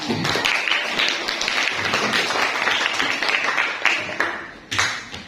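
A group of classroom participants claps together at a teaching performance assessment in Indonesia, a dense burst of hand claps that stays steady for several seconds and thins out near the end.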